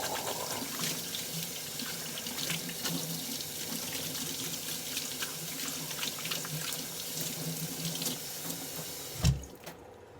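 Hands washed under a running kitchen tap fill the scene with a steady, close hiss and splash of water into a sink, continuous and alone until a brief thump right at the end.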